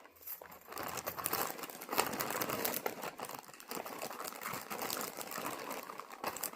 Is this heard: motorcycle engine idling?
no